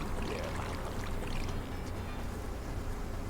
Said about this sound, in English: I like how you can hear the fucking running waterfall in the background.